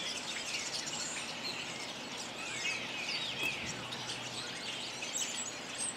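Small birds chirp outdoors near a tree branch in a natural setting. Their thin, quick calls are fairly faint and come from a short distance, over soft ambient background noise, with no talk.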